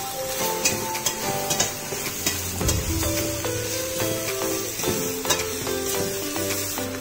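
Carrots, beans and potatoes sauté with onion in a pan, giving a close, crackling sizzle broken by repeated scraping and clinking strokes of a stirring spoon, with no talking.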